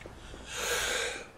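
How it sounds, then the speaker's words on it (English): A single sneeze, a short breathy burst that builds and fades in about a second, near and fairly quiet, with no talking. "I need to sneeze again."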